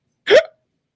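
A single short vocal hiccup imitation, one quick voiced gulp standing alone in silence.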